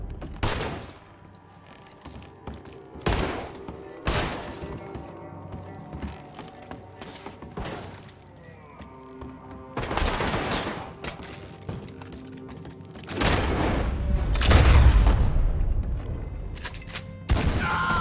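Gunfire in the PS4 game Red Dead Redemption 2 during a shootout with hoodlums. Several sharp, loud shots ring out at irregular intervals between mechanical clicks of weapon handling, with a heavier rumbling burst late on.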